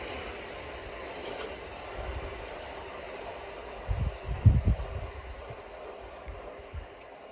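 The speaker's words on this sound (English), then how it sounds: "And now departing is the 1326 Southern service from London Victoria to London Bridge" A Southern train pulling out of Sydenham station, a low steady rumble of rolling stock heard from the platform, with a few louder thumps midway as it gathers speed, no voices.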